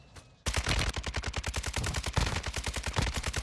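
An RPK light machine gun fires in a video game: a sustained, rapid burst of loud, evenly spaced shots rattles nonstop after a brief quiet lead-in.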